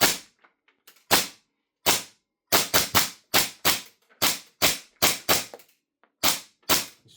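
VFC MP5K gas blowback airsoft rifle firing on semi-auto, a series of around fifteen sharp, close cracks at irregular intervals, some in quick pairs, with silence between shots.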